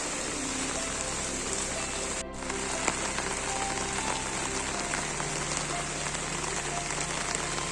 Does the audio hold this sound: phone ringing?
no